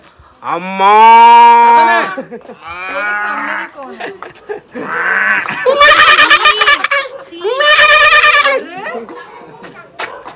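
Buffaloes in a cattle shed moo loudly and close by, giving several long, drawn-out calls one after another, with a voice chattering among them.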